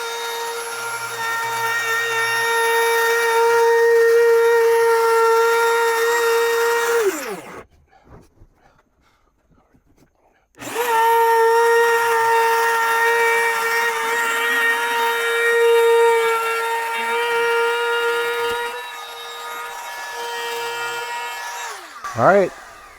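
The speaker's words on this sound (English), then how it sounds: "I've trimmed off the excess wood." A power tool trims excess wood while building a DIY teardrop camper trailer, its loud, steady whine running for several seconds, stopping briefly, then resuming for a second long cut before winding down.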